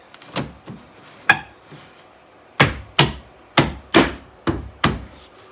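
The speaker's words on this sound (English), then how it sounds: "we're just going to pop this trim on here to hold it steady" Plastic interior trim panel on a Ford Fiesta ST150 being popped into place, a handful of sharp knocks and clunks, scattered at first and then a quick run of firm snaps, close and clear with no voices.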